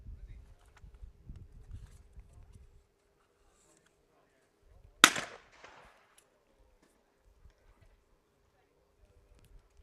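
A single sharp shotgun blast at a para trap shooting World Cup final rings out midway, loud and crisp with a short echoing decay, following quieter murmuring background sound.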